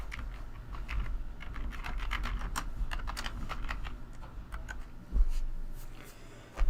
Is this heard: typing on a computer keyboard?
yes